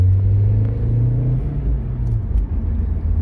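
Audi A4 B6 1.8T quattro pulling hard under turbo boost, a loud, steady low engine drone with rising harmonics heard from inside the car, continuous for the whole stretch.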